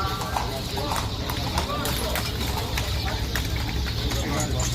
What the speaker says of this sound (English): here are our horse and buggies